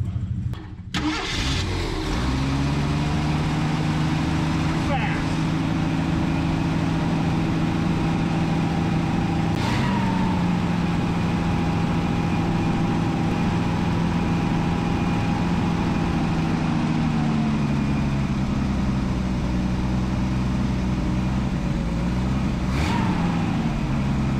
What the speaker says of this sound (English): The engine's nice and smooth, but we definitely got an exhaust leak down here.